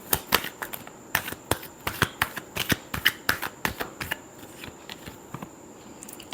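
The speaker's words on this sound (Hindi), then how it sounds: "Last shuffle." Tarot cards being shuffled by hand, a quick run of crisp, close riffling snaps and flicks at an uneven rhythm, fairly quiet overall.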